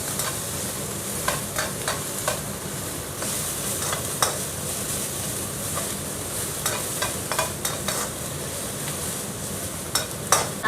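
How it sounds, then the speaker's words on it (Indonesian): Satay pieces stir-fry in olive oil, a continuous close hiss of sizzling with intermittent scrapes and taps of a spatula against the pan throughout. "Tak tumis dulu ya biar matang."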